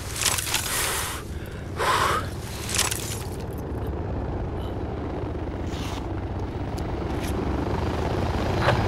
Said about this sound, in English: The chopper's friendly.